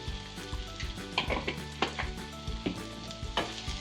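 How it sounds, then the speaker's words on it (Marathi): Spices roast in hot oil in a pan for a Marathi bottle gourd and chana dal curry, a loud steady sizzle with crackles and stirring scrapes, no voices. "छान असं तेल सगळ्या मसाल्यामध्ये सगळं भाजून घ्यायचं सगळं"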